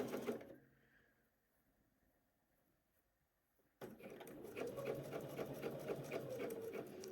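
A sewing machine stitches a welt pocket on a pair of Spencer pants. After a quiet stretch with faint room noise, the machine starts abruptly and runs in a loud, steady, rapid rhythm.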